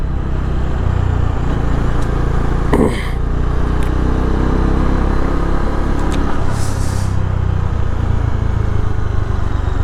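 A motorcycle engine on a cold start in the Himalayan mountains near Keylong, idling steadily with a low rumble that runs throughout, close and loud, with a brief burst of wind or handling noise partway through.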